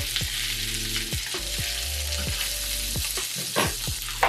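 Spot prawns frying four at a time in a pan: a steady, close sizzle with occasional sharper crackles and spits, and no voices.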